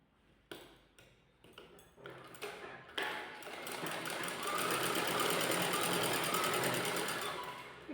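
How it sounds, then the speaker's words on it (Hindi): A sewing machine stitching a net fabric blouse starts with a few separate clacking stitches, then speeds into a steady, loud, rapid mechanical whir that runs continuously to the end. "अब देखिए यहाँ से फोल्ड करके हल्का सा सिल देंगे।"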